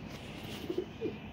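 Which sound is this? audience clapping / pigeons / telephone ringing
pigeons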